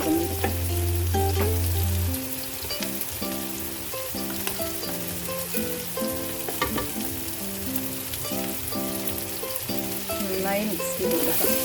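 Chilli ginger garlic paste frying in a pan and being stirred, a soft continuous sizzle with occasional spoon taps, mostly masked by louder melodic background music throughout.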